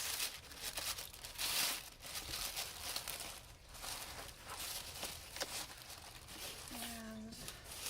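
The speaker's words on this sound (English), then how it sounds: "Crumple it up like this." Paper being crumpled by hand to pad an eBay shipping package, soft crinkling rustles in irregular bursts, faint and close, with a short squeak near the end.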